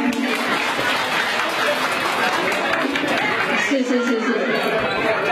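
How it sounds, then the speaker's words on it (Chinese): Audience at a school alumni gathering clapping to welcome a singer, the applause mixed with lively crowd chatter and voices throughout. "鼓掌欢迎。"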